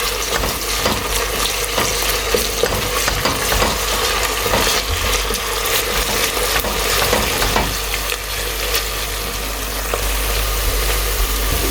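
A Growers Harvest ingredient fries and is stirred in a pot, a close, continuous sizzle with scraping stirring noises running steadily throughout.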